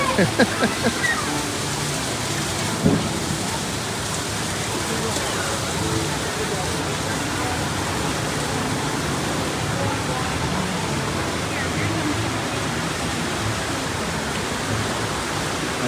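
Steady, dense rush of falling water from a nearby waterfall at the Dollywood theme park, filling the scene continuously with a few faint splashes near the start.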